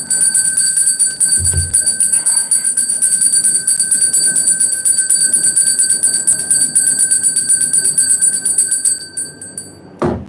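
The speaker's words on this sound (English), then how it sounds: "I gotta ring that bell" A bell rung repeatedly in a steady ringing burst for about nine seconds, a sustained high metallic tone that is loud and close, then cuts off abruptly near the end.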